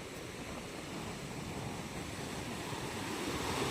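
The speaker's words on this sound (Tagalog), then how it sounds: "napakalakas po ng alon" Strong ocean waves wash steadily onto a beach, a continuous loud surf roar mixed with wind, building slightly toward the end with no voices.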